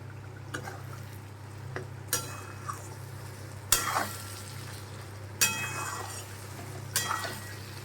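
Mashed pointed gourd being mixed and dried in a pan for a home-style bhorta, giving soft stirring and scraping with a few sharp clinks of a utensil against the pan over a steady low hum.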